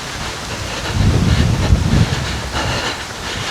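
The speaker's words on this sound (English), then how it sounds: "Wind almost blew me off the road then." A strong southeaster wind gusts across a roadside microphone, a steady loud roar that swells to a heavier buffeting rush in the middle before easing back to a constant blustery hiss.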